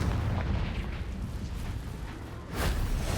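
A Confringo explosion spell cast in Hogwarts Legacy: a steady rumbling bed, then a sharp, loud fiery burst near the end that blooms and lingers.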